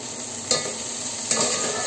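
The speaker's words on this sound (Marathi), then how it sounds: "आपण याच्यात लसूण टाकूया" Garlic tipped into a pan of frying tomatoes for egg biryani and stirred, giving a steady close sizzle with two brief scraping clatters of the spoon against the pan.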